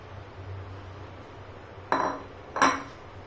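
A sweet mixture is poured into a tray, with two sharp metallic clanks of utensils against the dish standing out over a quiet room background.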